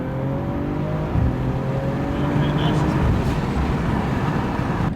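A BMW race car on a turbo map at 28 PSI accelerates hard at an airport, its engine drone climbing steadily with a loud, constant roar from start to finish, while a person talks over it.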